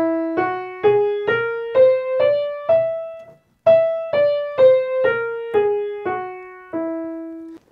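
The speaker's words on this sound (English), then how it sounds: "if I was to play a whole tone scale, a scale made up of full tones, it would sound like this." A whole tone scale played note by note on a single pitched instrument, a steady rising run of struck tones, a brief pause, then the run descending, each note decaying cleanly, close and alone.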